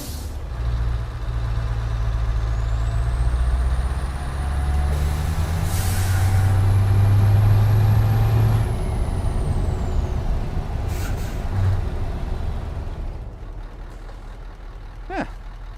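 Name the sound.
Scania truck engine in video game Euro Truck Simulator 2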